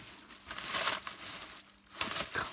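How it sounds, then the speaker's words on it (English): A bag full of old computer parts, including keyboard key pieces and circuit boards, rustles and crinkles close by in uneven waves of plastic crackling, with no voices. "Excuse the rustling, I know that gets on some people's nerves, but when you've got things in bags you can't help it."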